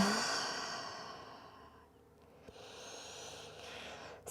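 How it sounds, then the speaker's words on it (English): Slow Ujjayi breaths in a yoga child's pose, a long hissing exhale at close range tapering away, then quiet before the next soft breath begins. "See if you can stick with that Ujjayi breath."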